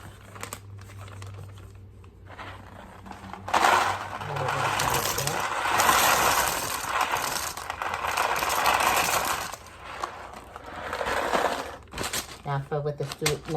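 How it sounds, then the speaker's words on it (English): Dry pasta is poured into a Ziploc bag in a classroom activity, giving a clattering, rattling rush of hard pieces against plastic in bursts, close up, with some talk around it. "helping the student pour the pasta into the bag"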